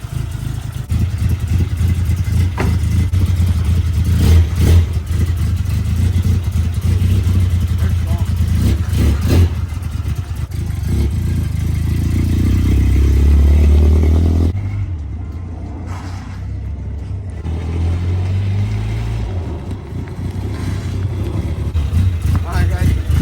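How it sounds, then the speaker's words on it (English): A car with a newly replaced brake master cylinder circles a roundabout, its engine droning and rising and falling with acceleration throughout, steady road and cabin rumble underneath, with people talking inside over it. "we're probably just gonna take it around the roundabout a couple times and just test and see if the brakes are feeling"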